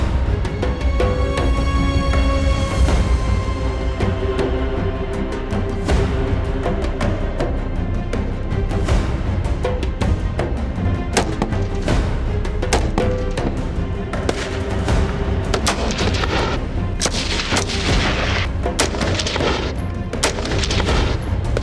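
Various military firearms fire at a shooting range, with loud repeated gunshots and bursts rattling continuously over a dense background, some shots close and sharp, others rolling.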